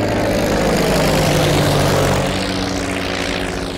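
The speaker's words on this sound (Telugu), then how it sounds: "ఏదేమైనా ఫస్ట్ టైం ప్రైవేట్ ఫ్లైట్ ఎక్కినందుకు చాలా హ్యాపీగా ఉందిరా" A private propeller plane's engine drones loudly and steadily, with a constant low propeller hum and broad rushing noise that eases slightly toward the end.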